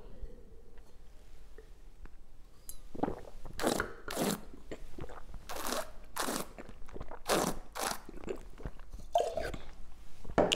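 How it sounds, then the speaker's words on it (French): Wine being chewed and swished around the mouth while tasting a Château de l'Éclair Beaujolais Blanc "Pierres Dorées", a series of close, loud wet sloshing and slurping bursts in irregular rhythm. "Toujours à ne pas hésiter à mâcher un petit peu son vin, comme ça."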